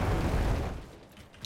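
A grenade detonates in the Enlisted World War II shooter, a loud low boom already rumbling at the start and fading away over about a second.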